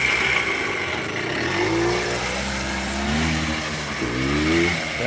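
A kick-started four-wheeler engine revs up as the vehicle takes off, its pitch rising in repeated climbs over a steady idle, close by and without speech.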